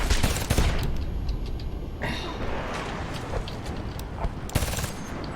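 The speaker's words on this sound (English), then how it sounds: "This one's a great weapon, I tell you, just for the rapid fire of it." Rapid-fire weapon shooting in the video game Homefront: dense bursts of automatic gunfire, loudest at the start and again near the end, with a rumbling battle backdrop in between.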